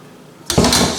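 A metal pot and strainer clatter suddenly as blanched green beans are drained of boiling water in a home kitchen, a single sharp burst of clanking after a quiet moment.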